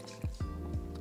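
Lime juice poured for a gimlet cocktail, a short run of liquid glugs and splashes close up, three soft pulses within about a second over a low background hum.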